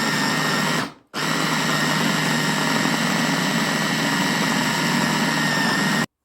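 A food processor grinds a meatless rice kofta mixture, with a steady motor whir that cuts out briefly near the start, then runs on evenly and loudly before stopping abruptly at the end.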